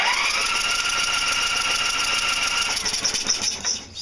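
A Murray lawn tractor engine sputters and struggles while starving for gas, a loud steady whirring drone near the mic that breaks into uneven, pulsing misfires toward the end, with no voices.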